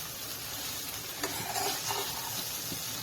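Poha with onions fries in a hot pan, giving a loud, steady sizzle with soft spatula strokes and light scraping as the flattened rice is tossed and stirred.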